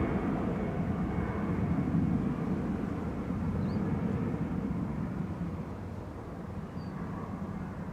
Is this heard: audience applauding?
no